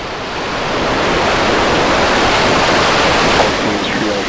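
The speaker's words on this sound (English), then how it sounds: "We have liftoff." SpaceX Starship rocket engines roar at liftoff during a high-altitude test flight, a loud continuous broadband rumble that builds in the first second and then holds steady, with faint voices underneath.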